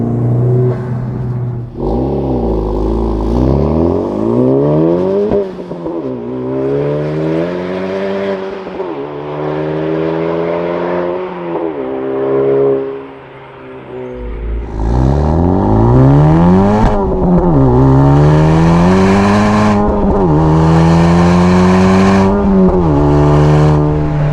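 A Honda Civic Type-R fitted with a full aftermarket exhaust revs repeatedly, rising to loud, raspy high-rpm pulls and falling back to a deep idle burble, close and unaccompanied by speech.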